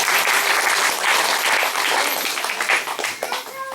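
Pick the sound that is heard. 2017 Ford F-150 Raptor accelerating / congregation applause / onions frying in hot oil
congregation applause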